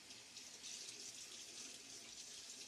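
Water from a tap runs in a soft, steady hiss while Williams Mug shaving soap is lathered, quiet and continuous with no voices.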